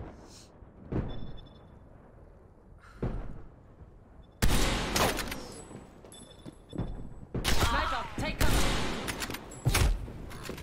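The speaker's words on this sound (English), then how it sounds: "Enemy sniper shooting." Sniper gunfire in the Call of Duty Black Ops Cold War Snipers Only Moshpit mode: scattered sharp shots with heavy booming thuds, growing loud and dense in the second half, with faint game noise between bursts.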